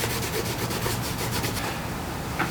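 Saphir Reno'Mat cleaner is worked into a leather shoe with a cloth, giving a close, steady scrubbing rub in quick repeated back-and-forth strokes with no voices.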